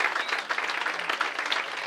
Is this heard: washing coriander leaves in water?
no